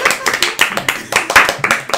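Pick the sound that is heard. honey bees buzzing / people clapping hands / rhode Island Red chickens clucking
people clapping hands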